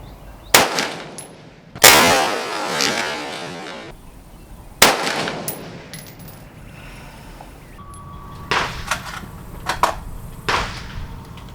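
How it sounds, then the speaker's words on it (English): Sharp 5.56 rifle shots fired downrange outdoors, three loud cracks with echoing tails spaced a few seconds apart, followed by several fainter distant pops and clanks. "there is no substitute for shooting rounds downrange"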